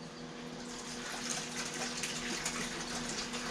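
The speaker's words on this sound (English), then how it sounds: "I usually fill the water jug and put the electrolytes in it" A water jug for young chicks being filled from a tap, heard as a continuous, even rush of running water that builds slightly in fullness, with no speech.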